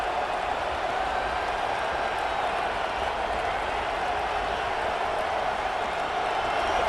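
Stadium crowd roar in a college football video game, a steady, dense wash of distant cheering and murmuring that holds level with no distinct voices standing out.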